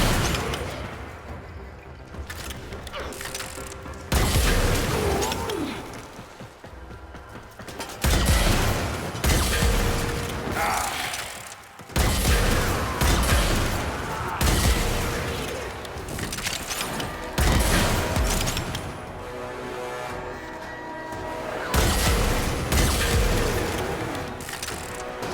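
Twin Stubbas machine gun pistols firing in a video game, loud rapid bursts of gunfire in several long strings separated by short pauses, with booming impacts and crashing effects mixed in.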